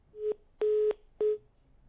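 Telephone line dialing while trying to connect a caller: three steady electronic tones, one short, one longer and one short, each separated by brief silence, clear and isolated.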